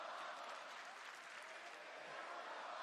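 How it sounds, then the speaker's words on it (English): A wrestling crowd applauds at a SmackDown show, a dense, even wash of clapping heard faintly and continuously. "Listen to this crowd."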